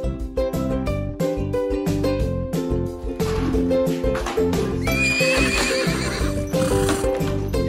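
A horse or pony neighs loudly and repeatedly at close range while hooves clip-clop steadily throughout.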